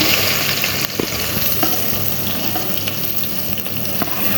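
Onions frying in oil in a pan for a haleem korma give a steady, close sizzle that runs the whole time, with occasional stirring clicks and scrapes and no talk.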